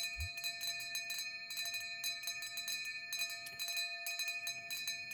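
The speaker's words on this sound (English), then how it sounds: "We like all the bells." Small bells ring in repeated bright, clustered jingles over a faint steady background, moderately distant and fairly quiet, with no talking.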